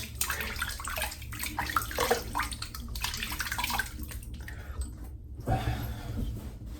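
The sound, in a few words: rinsing off with running water after a head shave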